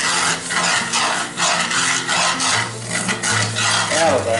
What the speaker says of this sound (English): Let's deglaze that skillet. We're going to stir that around.